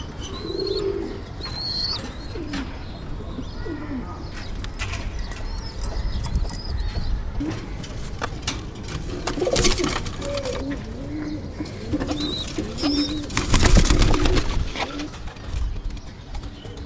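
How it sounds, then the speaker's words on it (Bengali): Pigeons in a rooftop coop with males and females kept in separate sections, giving soft intermittent coos and wing shuffles over steady background noise, with no talking. "আলাদা করা আছে সব কবুতর।"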